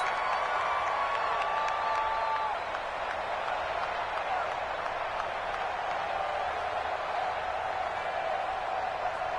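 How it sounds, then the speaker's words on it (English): Sideline clapping and crowd applause at an NFL football game between the Patriots and Texans, a steady wash of stadium noise with a brief tone early on. "That's why you hear that clapping on the sidelines, right?"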